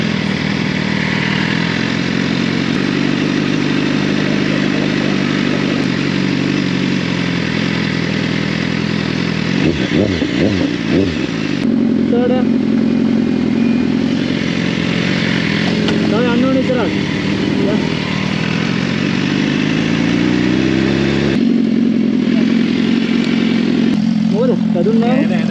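A motorcycle engine runs steadily nearby on an outing from Dubai to Fujairah, a low rumbling drone that keeps going throughout, with brief revs and people talking over it.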